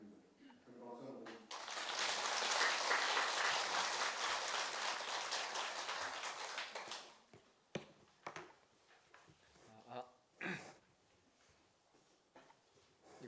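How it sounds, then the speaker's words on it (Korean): Audience applause at a Buddhist university lecture on the Heart Sutra at Beomeosa temple, a loud dense burst of clapping lasting several seconds before fading into scattered claps and shuffling noises. "큰 박수 한번."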